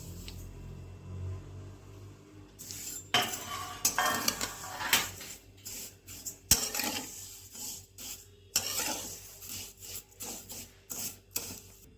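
Vermicelli roasting in ghee in a kadai, heard as irregular close scraping and clattering of a utensil against the pan, with rustling bursts and quiet pauses between.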